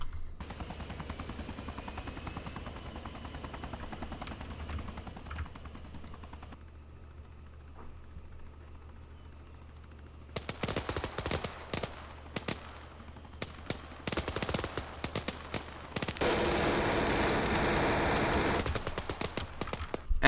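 Helicopter rotor drone and bursts of automatic gunfire from an air support strike on an enemy squad in the Arma 3 military video game, the shooting coming in loud rapid clusters over a steady engine roar.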